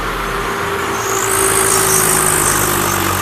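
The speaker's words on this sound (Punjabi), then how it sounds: "ਪੂਰਾ ਜ਼ੋਰ ਰਿਹਾ ਟਰੈਕਟਰ ਦਾ ਪੂਰਾ ਜ਼ੋਰ ਆ" A tractor engine runs hard at full power at a sugarcane-juice langar in Fatehgarh Sahib, a loud, close, unbroken roar with a steady droning hum and no voices.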